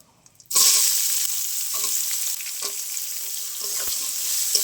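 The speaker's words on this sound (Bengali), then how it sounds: "পেঁয়াজটা আগে একটু ভেজে নেবো ভালো করে।" Chopped onions hit hot oil with a sudden loud burst, then fry in a sustained bright crackling sizzle, broken now and then by stirring scrapes and a couple of soft knocks.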